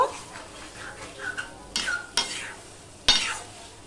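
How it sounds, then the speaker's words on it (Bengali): Vegetables are stir-fried with a paste of ground Gobindobhog rice, heard as a soft sizzle broken by several sharp spatula scrapes and metallic knocks against the pan, close and intermittent. "এই চাল বাটাটা দিয়ে আমি আবারও একটু কষিয়ে নেব।"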